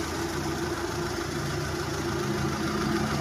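A manual Mitsubishi Lancer engine idles at a steady, even hum with a low rumble, continuous and close throughout, with no voices over it.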